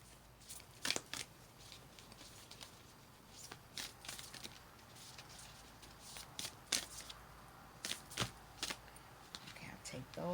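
Tarot cards being shuffled quietly up close, soft riffling bursts and papery flicks coming in irregular clusters over a faint background hiss.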